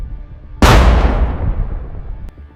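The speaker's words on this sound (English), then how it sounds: "Immediately after the explosion, another FPV drone hits the same part of the vehicle again." A loud FPV drone strike explosion on a Russian combat vehicle, a single sharp blast that rolls into a long decaying rumble, with a faint crack near the end and no voices.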